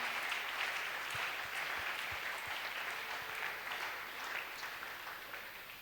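A congregation at a church service claps in sustained, even applause that lasts throughout. The dense crackle of many hands is steady and slightly distant, with no talk on top.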